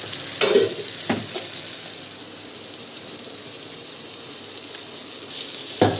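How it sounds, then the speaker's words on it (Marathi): Fish coated in spice masala frying in hot oil on a tava, a steady soft sizzle with a few louder crackles and scrapes near the start and end, no voices. "आणि आता ही मच्छी आपण फ्राय करू"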